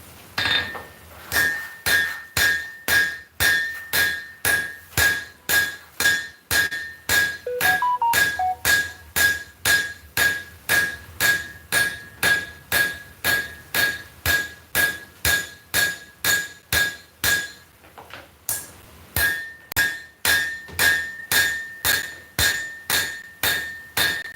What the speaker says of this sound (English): I'm just forging this down to its final shape.